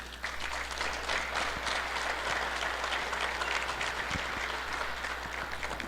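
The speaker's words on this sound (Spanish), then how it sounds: "un aplauso para ustedes que están aquí presentes" Sustained applause from an audience present at a public talk, a thick, even wash of clapping from a sizeable crowd lasting the full length, with a low steady hum beneath it.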